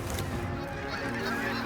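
Geese honk in a dense, overlapping chorus as a flock flies in over a Saskatchewan waterfowl hunting spot, loud and close, with no talking.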